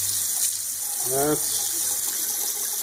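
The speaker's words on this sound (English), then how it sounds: "Let's turn the water on and see if it leaks or not." A Grohe single-handle kitchen faucet runs water into a sink, a steady close hiss and splash with a brief gurgle as it starts, while a voice speaks briefly over it.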